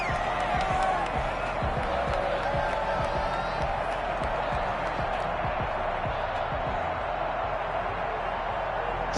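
Roaring home stadium crowd noise in Madden 21 football, a loud continuous wash of cheering and murmur with scattered claps and thumps, voices talking within it.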